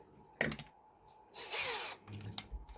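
A power drill whirs in one sustained burst of a second or so as it backs screws out of a bad receiver in a Rustler 4x4 RC car, with lighter handling clicks and taps before and after.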